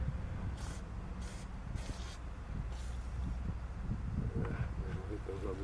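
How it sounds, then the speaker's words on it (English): Short hissing bursts from a WD-40 spray can aimed at nuts near a 2001 Toyota Camry water bypass pipe. Four or so brief sprays stand out over a low, steady background rumble. "So I'm going to hit WD-40."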